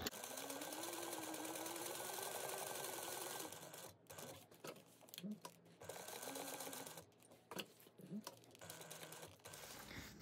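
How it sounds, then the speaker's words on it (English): A sewing machine stitches an eighth of an inch in, basting foam to exterior fabric, its motor whirring steadily and loudly for about three and a half seconds before stopping and restarting in shorter bursts. "you're going to baste your foam and your exterior together"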